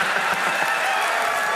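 A comedy club audience in Baltimore cheers and claps loudly, a dense, continuous roar of crowd noise with no single voice standing out.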